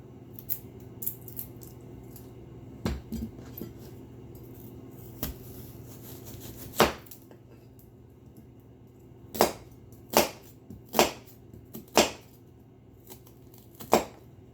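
A knife chops through a juicy onion on a board in a home kitchen while fire cider tonic is prepared, giving sharp, close cuts that start sparse and then land in a loose run of distinct strikes near the end.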